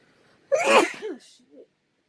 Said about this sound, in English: First of all, it was sneeze.